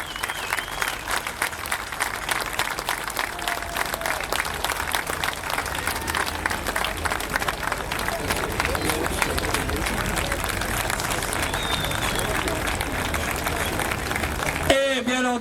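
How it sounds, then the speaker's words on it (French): Sustained applause and crowd noise from a rallycross audience cheering the Division 1 podium drivers at the 2010 Lohéac supercar final, steady dense clapping throughout with a brief sharper burst near the end. "je vous demande un tonnerre d'applaudissements pour les pilotes de la division 1 et ce podium final"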